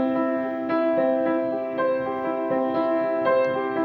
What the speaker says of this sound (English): You can arpeggiate them, which means playing the chord as individual notes.